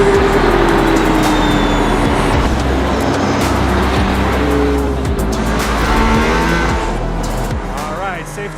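Mercedes-AMG ONE hypercar at full throttle on the Barcelona circuit, a loud steady engine drone with rising and falling tones heard from inside the car, with talk over it throughout.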